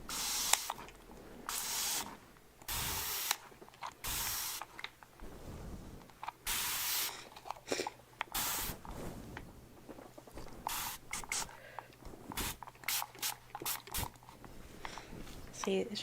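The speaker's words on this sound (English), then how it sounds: "I'm going to spray the water onto your hair" Water spritzed from a spray bottle onto hair at a hair salon roleplay, a series of short bright hissing bursts repeated irregularly over soft close-up ASMR background, with quiet speech between sprays.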